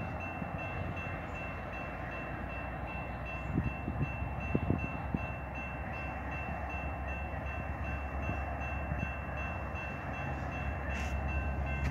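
A Rail Runner commuter train passes in Albuquerque in the evening, heard as a steady, fairly distant rumble with a few faint clanks and clicks partway through.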